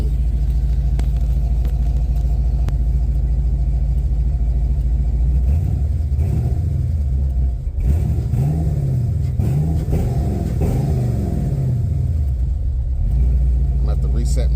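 A Box Chevy engine idling with the cooling fan and pump switched on, a loud, close, steady low rumble with a few rising and falling revs partway through, while someone talks over it.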